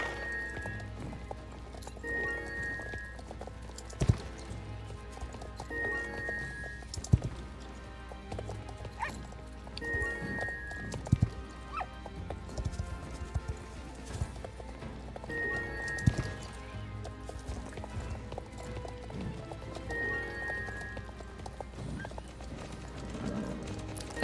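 Horse hooves clip-clop steadily through a Star Stable ride on a lower-level horse, the rhythmic footfalls continuing beneath game music, with occasional whinnies.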